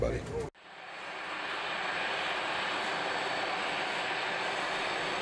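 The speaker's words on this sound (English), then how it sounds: "pushed back, started engines, and are now ready to taxi" Engines of a Kalitta cargo jet, started after pushback and ready to taxi, give a steady loud broadband roar that swells after a brief cut and holds constant, with no voices.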